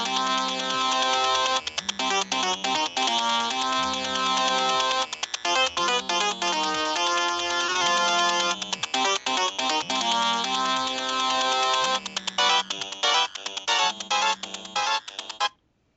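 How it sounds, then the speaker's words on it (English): A phone ringtone of bright synthetic beeps and tones plays loudly and continuously in a repeating melodic pattern over a low pulsing bass, then cuts off abruptly at the end. "I could actually hear the ringtone I just bought"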